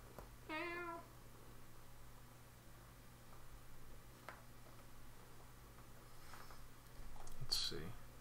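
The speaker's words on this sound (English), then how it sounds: "See a big boy cat." A large male domestic cat gives one clear, close meow near the start, then the room falls quiet apart from faint clicks and rustling, with a brief noisy burst near the end.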